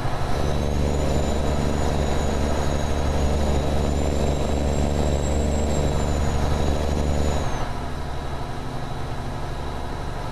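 Loud, steady rumble of a Freightliner FLB cab-over semi truck engine hauling cattle in American Truck Simulator, with a rising whine, easing to a lower drone near the end; no talking.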